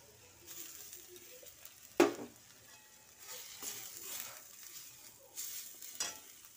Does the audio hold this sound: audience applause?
no